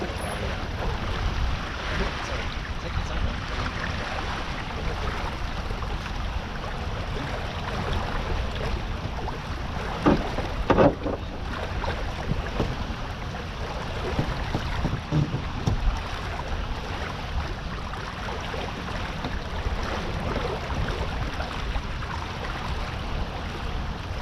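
A racing sailboat moves under sail in about six knots of wind, giving a constant broad rush of wind and water that stays even throughout, with no voices.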